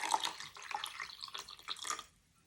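A cup of water poured into half a cup of sugar in the kitchen: a short, close, bright splashing stream lasting about two seconds, then stopping abruptly.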